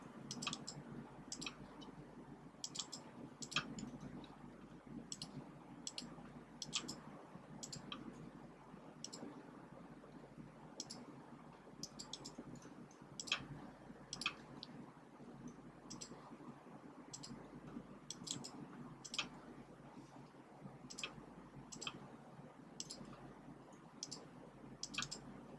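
Computer mouse clicking while sketching in SolidWorks, sharp single and double clicks spaced irregularly over a faint room hum, close and quiet with no speech.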